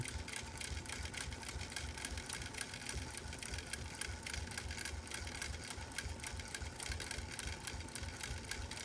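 A sewing machine stitching along a quilt binding runs in a steady, fast mechanical whir with rapid even needle clatter, close and continuous throughout, with no talking.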